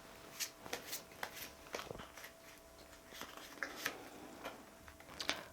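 Tarot cards are shuffled and drawn by hand, giving a quiet, irregular series of crisp flicks and soft slaps at close range with no talk over them.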